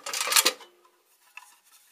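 An aluminium military mess tin with its lid is handled, giving a brief bright metallic scraping clatter up close, then a couple of faint light taps.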